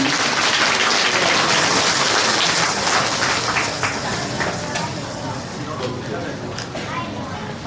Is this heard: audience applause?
yes